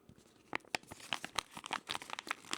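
Packaging of a Toniebox 2 is torn open up close, a quick series of crinkly rips and crunchy crumpling bursts at a moderate level with no talking.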